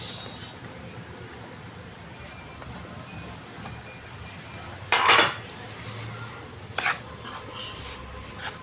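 Spoon clinking and scraping against a pot while mixing dates into spicy pickle masala for khajur achar, mostly soft with two louder metallic bursts near the end.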